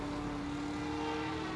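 A news helicopter in the video game Driver hovers close by, its engine and rotor making a steady, loud droning whir with a constant tonal hum and no talking.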